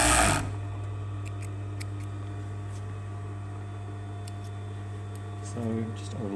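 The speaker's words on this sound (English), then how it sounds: "So all we're doing is overlocking down this edge here" Overlocker whirring steadily as it finishes a fabric edge on an unlined jacket vent, a constant close mechanical hum with a fine rapid ticking, shifting slightly near the end.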